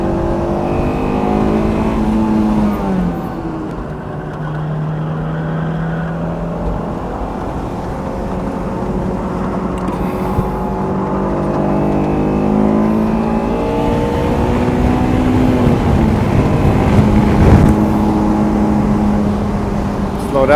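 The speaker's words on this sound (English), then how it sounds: "Beautiful Mark V coming up behind me." A Toyota Supra Mark V approaching from behind on a track-day circuit while a Honda S2000 drives ahead, engine roar rising and falling through revs, loud and steady for about twenty seconds under the cabin's own engine noise.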